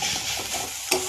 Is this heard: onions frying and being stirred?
yes